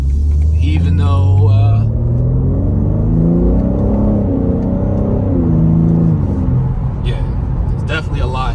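A 2021 BMW M3 Competition G80 revs at half throttle with a deep, loud engine and exhaust rumble that rises and falls, under close talking.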